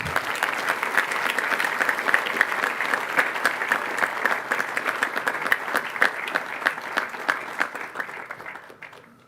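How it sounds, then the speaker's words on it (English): A crowd at a grade 8 class day ceremony applauds steadily for several seconds, dense clapping that holds level and then tapers off at the end. "Let's have another round of applause for Mr. Camp's advisory."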